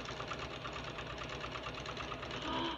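A sewing machine runs a steady straight stitch over sport elastic, a quiet, even rapid mechanical patter with no talk.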